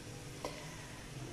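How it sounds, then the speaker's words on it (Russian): Onion and carrots fry in a pan for borscht, giving a faint steady sizzle with one brief clink of a utensil, quiet and without talk. "Здесь я отдельно буду зажаривать лук с морковью."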